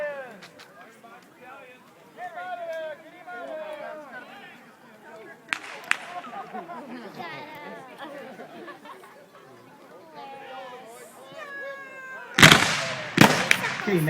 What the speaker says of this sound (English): now the Federals are firing by company. This tends to make a more constant rate of fire at the enemy.